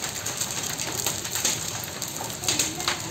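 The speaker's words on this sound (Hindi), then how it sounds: "ये बर्फ की बारिश हो रही है भैया" Dense hail falling in a severe storm in Jamshedpur, a constant near clatter of ice pellets on surfaces, with a few stronger bursts of impacts standing out from the steady drumming.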